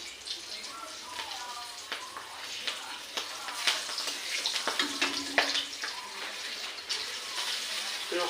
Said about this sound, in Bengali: মরিচটা ফুটে গেছে